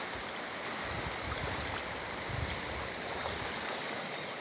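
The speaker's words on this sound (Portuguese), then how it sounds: "A força dessa água." Strong river water rushing and churning, a wide steady roar of flow that fills the scene evenly and sounds close, with no speech on top.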